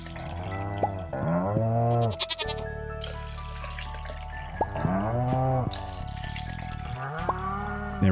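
Goats in the Stardew Valley farming game bleat in a string of short wavering calls, several spaced across the stretch, with soft game chimes and effects between them and no talking.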